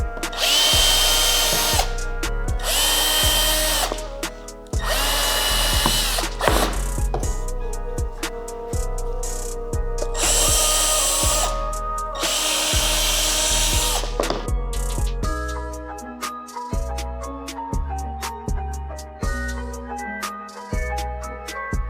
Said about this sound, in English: I'm taking an 1/8 inch drill bit and I'm drilling through both layers